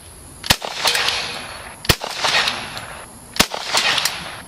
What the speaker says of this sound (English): We're at 100 yards plinking with .45 ACP